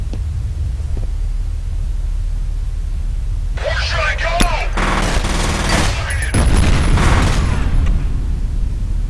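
Gunfire and a grenade blast in the video game F.E.A.R., with bursts of rapid automatic shots and a booming burst arriving after a quiet stretch, over a steady low hum and a talking voice.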